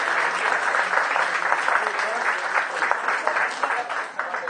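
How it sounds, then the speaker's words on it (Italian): An audience at a music and cultural event applauds, with dense, continuous clapping at a steady level that eases slightly at the very end. "Prego di fare un applauso."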